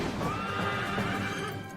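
Wild horses neighing: a single loud, close whinny that rises and wavers for under two seconds, with faint hoof clatter underneath.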